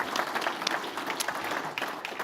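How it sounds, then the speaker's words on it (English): A conference audience at a cyber security and IACS URs session claps warmly as a presenter takes the stage, brisk crisp hand claps packed together, close and even throughout. "I'd like to give a warm applause"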